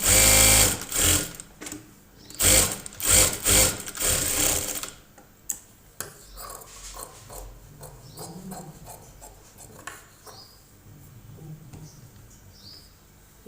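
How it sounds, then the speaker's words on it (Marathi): A sewing machine stitching a blouse, a loud rapid mechanical whir in several bursts for about five seconds, then stopping, followed by quieter handling clicks and faint chirps. "आता याला आपण स्टिचिंगला सुरुवात करू."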